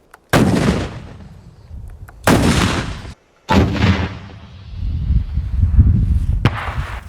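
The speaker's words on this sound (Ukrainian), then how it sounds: "І зараз буде постріл з РПГ." Several loud, booming blasts from an RPG grenade launcher mounted on a ground drone fire one after another, each with a long rumbling tail echoing outdoors.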